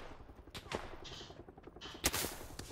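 Gunfire in an Xbox One X first-person shooter match, a few short sharp shots against steady game ambience, moderately loud with faint background effects.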